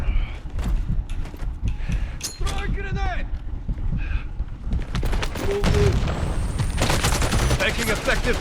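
Gunfire in a video game, with rapid bursts and scattered shots cracking over a busy mix of clanks and mechanical noises, loud and close throughout, with voices talking over parts of it.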